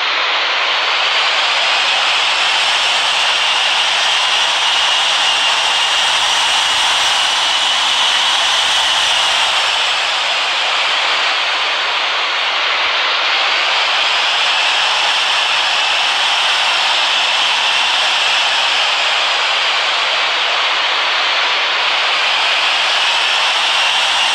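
An Airbus A330-300's jet engines roar loud and continuous, a broad steady hiss-like rush with slight swells in pitch, heard from within the cabin with no talk.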